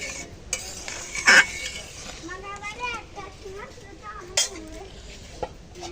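Salted crab and taro curry is stirred in a pot with turmeric, the spoon scraping and clinking against the metal in a few sharp knocks, while someone talks and children's voices sound in the background.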